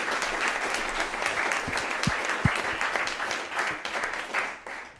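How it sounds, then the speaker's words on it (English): Audience applause at a design chapter forum, a sustained dense clapping crowd at moderate distance that swells and then thins out toward the end, with a few louder nearby claps. "Let's just give a round of applause to everyone up here for an unbelievable work and leadership."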